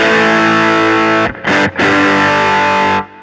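Electric guitar played through a Keeley Blues Disorder pedal in OC mode, giving a thick, saturated distorted tone. A sustained chord rings loud and alone, briefly cut twice before ringing on and fading at the end.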